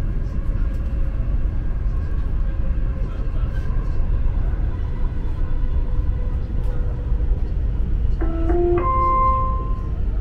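Dubai Metro train running steadily, with a continuous low rumble and rolling rail noise inside the car and a brief electronic chime near the end.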